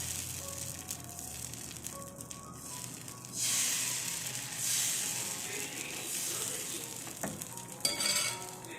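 Wheat-flour dosa batter sizzling steadily on a hot pan, a soft continuous hiss with brief louder crackling bursts as a ladleful is spread, no voices.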